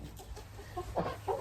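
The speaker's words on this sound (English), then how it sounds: "My chickens are on the porch." Chickens on a porch cluck in a few short, faint bursts over a soft outdoor background.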